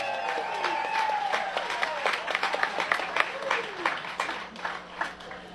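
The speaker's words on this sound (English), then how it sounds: "Give her another nice round of applause." Applause for a bluegrass singer at a live show, a moderate crowd clapping steadily with sparse distinct claps and a few voices calling out over it.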